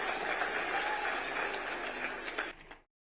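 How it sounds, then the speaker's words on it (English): Audience applause following a presidential speech at a university chancellor installation ceremony, a dense, steady wash of many hands clapping that carries on for a few seconds, then thins and stops abruptly. "Another round of applause for His Excellency for that wonderful speech."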